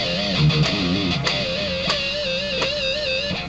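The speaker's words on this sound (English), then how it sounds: "I'm going to show you what pinch harmonic sounds like." A distorted electric guitar in drop D tuning squeals out a sustained pinch harmonic, wobbling with wide vibrato over a thick, gritty low note, loud and alone.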